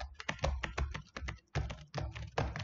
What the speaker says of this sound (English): So I will put random words without looking into my keyboard.